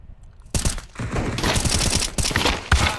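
Rapid gunfire rattles in a multiplayer video game, a dense, loud burst of automatic shots kicking in suddenly after a quiet moment and continuing close up.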